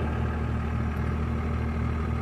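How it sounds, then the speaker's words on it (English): A truck engine idles steadily with a deep, even hum and low clatter while it jump-starts another vehicle's battery in snowy cold weather, holding a constant level throughout with no voices. "you'll hear that engine lug a little bit that you're jumping off of"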